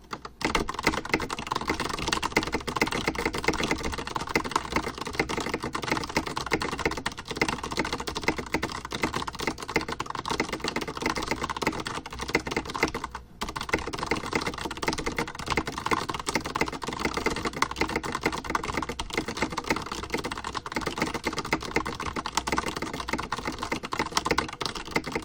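Steady, continuous clatter of fingers typing on a computer keyboard during a 2014 Twitch typing stream, dense rapid keystrokes, close and even throughout, with one brief pause midway.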